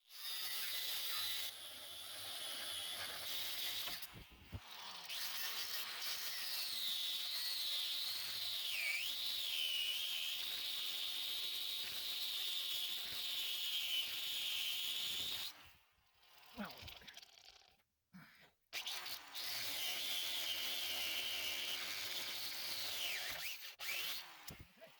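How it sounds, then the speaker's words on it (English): Cutting tool slicing through U-bolts on a truck's cracked rear axle, a loud steady high-pitched hiss and whine that runs for long stretches with brief pauses between cuts. "So we're cutting these U-bolts to pull the rear end out."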